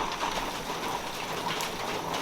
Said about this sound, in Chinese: 那个雨声好大哟。